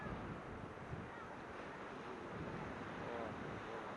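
Atlantic Ocean surf on a beach in Tenerife, a continuous broad wash of waves mixed with wind buffeting the microphone, steady and fairly close.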